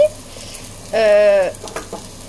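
Grated ginger dropped into a hot pan for Japanese-style beef sauté, a brief close hiss and sizzle lasting about half a second, then quieter cooking sounds and faint clatter.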